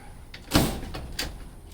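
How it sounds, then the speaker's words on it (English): A door is unlocked and opened, giving a sharp clack of the latch followed by a second softer knock, close and alone with no talking. "Always pays to unlock the door."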